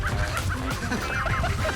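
Agitated chickens cluck and squawk in a dense, continuous flurry while being chased and caught outdoors, loud and close throughout.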